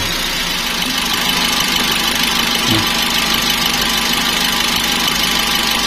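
A car engine idles steadily close by, a constant loud hum with a slight knocking vibration throughout.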